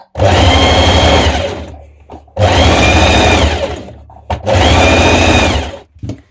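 Domestic sewing machine understitching a trouser facing in three loud, close bursts of fast steady whirring, each a couple of seconds long and separated by short pauses.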